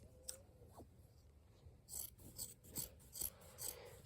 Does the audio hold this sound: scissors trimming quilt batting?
yes